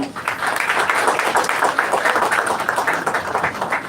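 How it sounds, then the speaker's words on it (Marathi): An indoor audience at a foundation event in Thane bursts into loud, sustained applause to welcome a guest, dense clapping throughout. "आपण अमृता मॅडमचं जोरदार टाळ्या वाजून स्वागत करूया"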